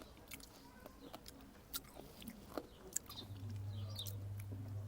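Someone bites and chews salt-pickled Bao mango in a quiet setting, with soft, scattered crunchy clicks and mouth sounds and a low hum coming in near the end.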